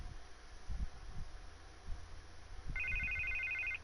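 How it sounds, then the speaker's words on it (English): A telephone rings in the Batman Telltale video game, an electronic trilling tone that starts late and repeats steadily over low thumping background noise. "Answer the phone."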